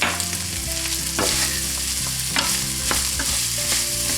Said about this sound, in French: on va faire revenir l'ensemble pendant encore 2 minutes